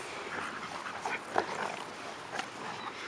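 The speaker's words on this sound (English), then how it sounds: "Goofy dog." A dog makes faint snuffling, whimpering sounds at close range, with a few brief louder bursts over a steady low background.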